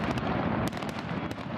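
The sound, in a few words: fireworks celebrating King Frederick X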